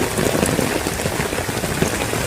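Heavy rain falling in a dense, steady patter of drops on surfaces, loud and close and unbroken throughout, with no voices.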